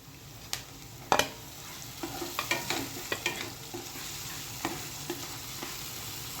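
Onions, finely chopped tomatoes and chillies sauté in a pan with a soft, steady sizzle. Sharp, irregular spatula clicks and scrapes sound close by, with no talking.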